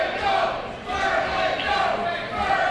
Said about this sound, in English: what was a split crowd before certainly sounds like a pro Vertigo crowd now